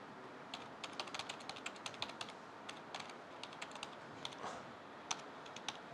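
Code being typed on a computer keyboard, a steady run of quick, light key clicks close by, alone at low volume.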